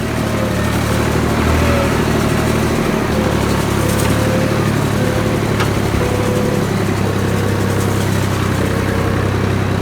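A tractor engine running loud and steady up close, a continuous low diesel chug with slight bumps and rattles throughout.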